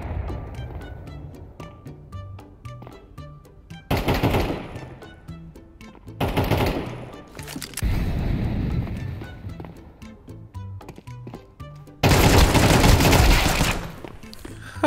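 Gunfire in Counter-Strike 2, with rapid bursts of shots alongside several loud, dense blasts spread through the stretch, close and prominent with little talk.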